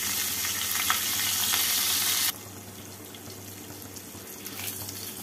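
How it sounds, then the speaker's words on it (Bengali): Green chillies and nigella seeds sizzle in hot oil for a mustard-paste tangra fish curry, a loud steady crackle for about two seconds that drops abruptly to a faint, quieter sizzle with occasional pops. "এবার এই তেলের মধ্যে দিয়ে দেবো 2টো কাঁচা লঙ্কা ফোড়ন, আর দেবো 1 টিস্পুন কালো জিরে ফোড়ন।"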